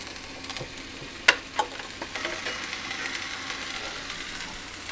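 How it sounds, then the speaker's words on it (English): Stuffed flank steaks sear in a pan with a quiet, steady sizzle, one sharp clack and a softer knock early on, then low continuous frying hiss, fairly faint and without talk. "So we're gonna sear our stuffed flank steaks."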